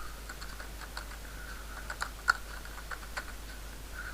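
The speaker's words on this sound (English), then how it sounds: "And if I type here" Computer keyboard typing in a quiet room: sparse, soft key clicks with a few sharper taps, faint and close, with no voices.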